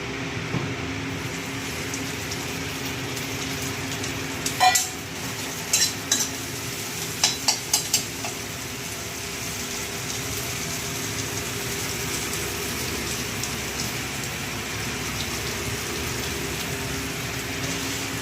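Squeezed-dry neem leaves frying in a little hot oil in a wok: a continuous soft sizzle with a few sharp metallic clinks of a utensil against the pan partway through.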